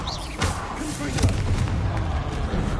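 A spell's explosive blast in the Hogwarts Legacy video game: a heavy boom and rumbling thuds from magic combat, with a voice calling out over them.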